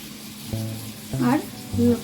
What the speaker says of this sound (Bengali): পেঁয়াজটা হালকা ভাজা হয়ে গেছে, এর মধ্যে আমি এবার দিয়ে দেবো টমেটো কুচিটা।